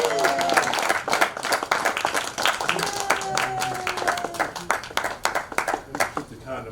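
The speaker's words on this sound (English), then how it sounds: "Please give a nice warm round of applause for James Gautier." A comedy club audience gives comedian James Gautier a warm round of applause as he takes the stage, a lively burst of clapping with cheers that tapers into scattered claps.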